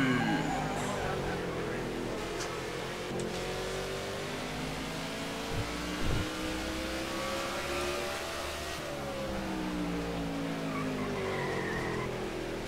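A NASCAR stock car engine in NASCAR The Game: Inside Line roars loud and continuous, rising and falling in pitch as it revs through a corner, with brief tire squeal and a voice talking over it.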